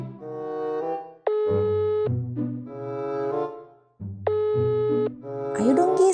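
Telephone call ringing out unanswered, two long tonal ring bursts separated by pauses, clear and steady, with a musical backing underneath and a brief clatter at the end.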